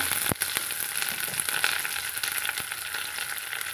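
Halved shallots and curry leaves crackle and sizzle in hot oil in a pan, a close, steady frying hiss with a few sharp pops and stirring knocks.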